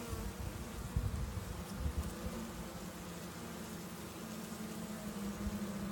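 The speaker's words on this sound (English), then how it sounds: "This bee right here is fanning." Honey bees fanning inside a struggling, queenless hive after being given a new queen, making a steady, dense buzzing hum that stays close and continuous throughout, with no voices.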